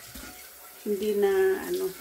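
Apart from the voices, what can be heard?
water running while washing used cutting utensils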